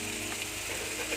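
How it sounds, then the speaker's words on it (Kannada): Thickly cut onions fry in a pan, a steady close sizzle and crackle running without a break and without talk. "ಈರುಳ್ಳಿನ ಚೆನ್ನಾಗಿ ಫ್ರೈ ಮಾಡ್ಕೋಬೇಕು"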